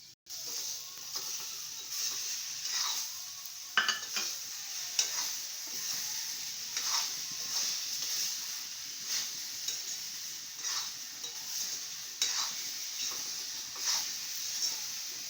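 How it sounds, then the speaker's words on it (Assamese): Fish frying in a pan for a fish-head and lentil-like home recipe, a steady close sizzle with scraping stirs and occasional clinks at a spatula, continuous with no talking. "তাৰপিছত মাছখিনি ভাজি দিওঁ নেকি।"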